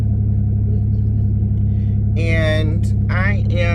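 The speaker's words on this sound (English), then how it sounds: "I'm actually just sitting in the car right now because I gotta let it warm up a little bit" A car engine idles while warming up on a cold morning, with a steady low rumble close by throughout and a voice speaking briefly over it toward the end.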